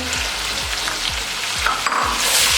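Powdered spices and lemon juice fry for masala biryani in a steady, close sizzle, with stirring scrapes now and then and no talk.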